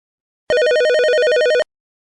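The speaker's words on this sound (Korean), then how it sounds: "사흘 후 분식집으로 전화가 걸려왔습니다." A telephone rings once with a bright, trilling electronic bell, loud and close, a single burst of about a second set alone in silence.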